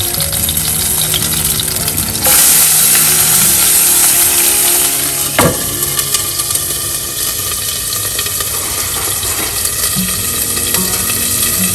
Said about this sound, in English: And I'm adding the onion